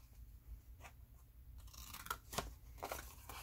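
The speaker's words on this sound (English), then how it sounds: "going to cut that little square out right here on the bottom" Scissors snipping paper square out of an ephemera tuck pocket, a few close, quiet crisp cuts in the latter half over low background hum.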